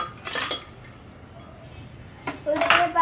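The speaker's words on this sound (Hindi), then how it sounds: "उसके बाद हम आइस डालेंगे" Ice cubes drop into a glass for a drink made with milk and pineapple juice, giving two short bursts of clinking and rattling a couple of seconds apart over a quiet room.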